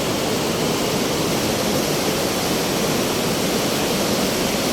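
Loud, steady rush of a fast-flowing glacial meltwater river in the Kashmir valley, a dense unbroken roar with no voices.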